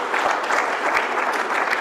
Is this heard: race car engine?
no